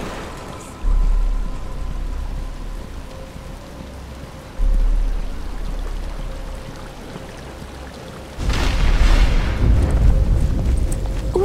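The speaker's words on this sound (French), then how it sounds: "Il commence à pleuvoir." Steady rain falls in a Batman: Arkham Asylum cutscene, a continuous hiss broken by deep rumbling swells of thunder, the last one loud and lingering near the end.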